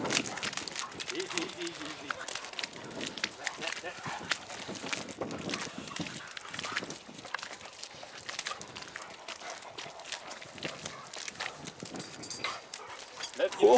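Dogs reacting to a rat caught in a trap, with agitated barks, whimpers and scrabbling mixed with people talking excitedly over them, fairly close and chaotic throughout.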